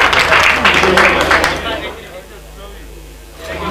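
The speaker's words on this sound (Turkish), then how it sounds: "hepsine bir şöyle bir kuvvetli bir alkış rica edeyim seyircilerimizden" Audience applause in a hall at a Turkish technology-days awards event, strong and dense at first, then thinning out to a quieter murmur before a brief swell near the end.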